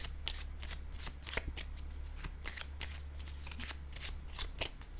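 Oracle cards shuffled by hand during a French-language reading, a steady run of quick crisp riffling flicks repeating throughout, close and fairly quiet with no talk over them.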